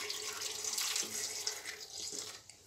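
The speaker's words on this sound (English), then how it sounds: "let me add the milk" Milk poured into a blender of banana for a homemade smoothie, a steady splashing liquid stream running for a couple of seconds, close and fairly quiet with no voices.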